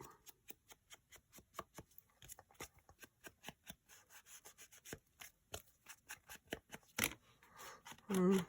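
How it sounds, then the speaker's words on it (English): A bone folder is drawn repeatedly across a bent mini paper file folder, giving a quick run of close, dry scraping and rubbing strokes at a steady rhythm, followed by a brief louder rustle of paper. "I just slightly bend it, and then I go in here with my bone folder"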